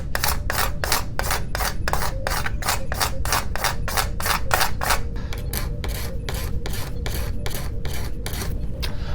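Rhythmic sanding and scraping strokes on a Star Trek Enterprise D scale model, a steady run of rapid back-and-forth rasps that slows and softens toward the end, close and continuous with no talking.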